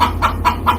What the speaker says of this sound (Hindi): आधी रात में मनोज को मुर्गे की जोर जोर से चिल्लाने की आवाज सुनाई देती है